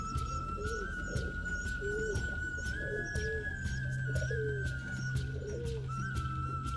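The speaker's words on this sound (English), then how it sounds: "Now you see the barless red and grey Lahore pigeons." Lahore pigeons coo softly and repeatedly at a fancy pigeon farm against a constant background hum, with a steady tone and faint clicking running throughout.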